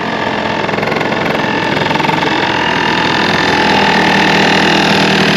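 A Honda Live Dio ZX scooter engine idles loudly and steadily, its muffler giving a constant droning rumble with a faint rattle underneath throughout.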